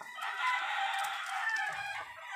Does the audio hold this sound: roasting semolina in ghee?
no